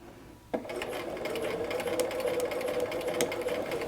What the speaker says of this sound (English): I'm going to keep sewing, but I'm still sewing at a diagonal, and I'm going to go off the fabric right where that mark is.